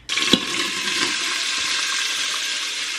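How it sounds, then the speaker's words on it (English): Vegetables sautéing in about a tablespoon of hot olive oil in a pot, giving a steady broadband sizzle after an opening clatter as they go in, continuing evenly throughout with no talking. "set it to saute, and put in the vegetables"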